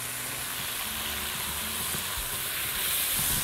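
Whole cumin, bay leaf and cardamom frying in oil with meat while being stirred, a dense steady hiss that swells slightly toward the end, no talk.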